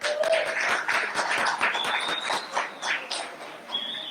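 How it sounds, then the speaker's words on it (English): Applause and scattered cheers from a crowd at a fundraiser event, moderately loud and continuous with a few whoops rising above the clapping. "One more round of applause for that."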